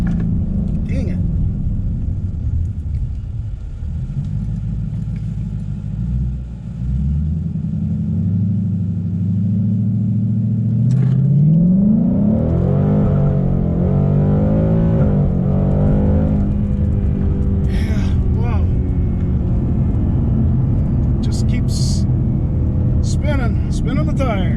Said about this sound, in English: Spinning the tires.